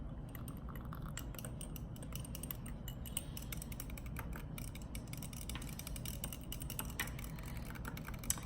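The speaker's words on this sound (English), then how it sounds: "I'm just going to use my little whisk here to whisk that in" A small whisk stirs vanilla extract into a homemade creamer, a faint rapid ticking and tapping that continues evenly for several seconds, quiet and close, no voices.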